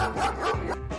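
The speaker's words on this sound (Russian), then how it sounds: "соседская собака лаяла всю ночь." A neighbour's dog barks at night in a quick run of loud, close woofs with a short yip, with no voices over it.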